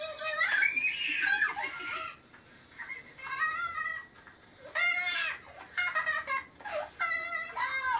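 Chickens cluck and squawk in a run of bright, choppy calls, with a rooster-like crow mixed in, fairly close and loud with short pauses between bursts.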